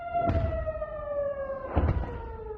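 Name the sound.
rocket warning sirens in Israel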